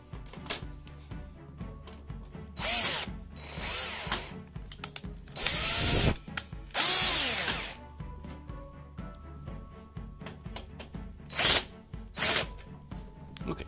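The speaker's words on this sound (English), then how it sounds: "When in doubt, just keep drilling it." Several short bursts of a cordless power drill, each lasting one to two seconds with rising and falling motor pitch, close and loud between quieter stretches of background noise, with no talk.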